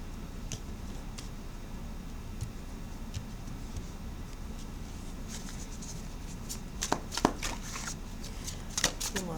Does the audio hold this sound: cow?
no